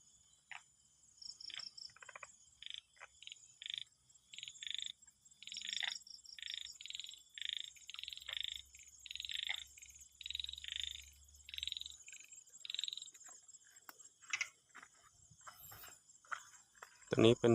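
Frogs croak at night at a frog pond, giving repeated short calls in an irregular rhythm, joined by steady high insect chirring and a soft low hum, with a brief noisy knock at the very end.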